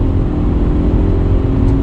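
A 2020 Toyota 86 Hakone Edition engine drones steadily while driving, a loud, even low hum with road noise and no talking.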